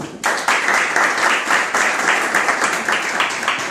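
Applause for a researcher after her talk at an academic session at Universidad de Luján, beginning abruptly and holding as a steady crowd clapping with a few stronger bursts.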